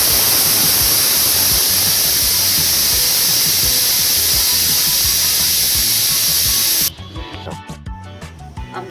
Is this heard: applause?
no